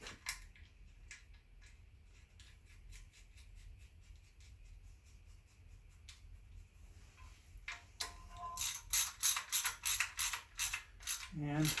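A hand ratchet tightens the timing-chain sprocket bolts on a GM 2.4 Twin Cam engine, giving a steady run of close, rhythmic pawl clicks that turn into louder, heavier clicks and creaks near the end.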